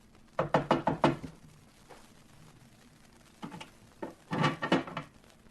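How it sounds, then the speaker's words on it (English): Knuckles rap on an iron door at the top of a narrow staircase beside a kitchen: a quick run of five sharp knocks, a pause, then a second looser cluster of raps, fairly close and with no voices. "The waiter rapped on the door."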